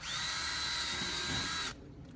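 A power drill with a 3/16 inch bit bores during a cargo carrier and swing arm install, a steady high whine held loud and close for under two seconds before cutting off abruptly.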